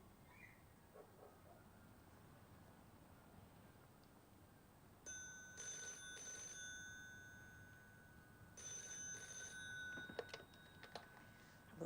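Telephone ringing at a short-stay teenage refuge in Airdrie, Scotland, two bursts of bright electronic trill a few seconds apart over a faint, quiet room hiss.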